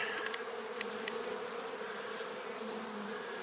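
Honeybees at an open hive, handled during a transfer to raise a new queen, hum as a steady, dense, close swarm drone that holds evenly throughout with no voices.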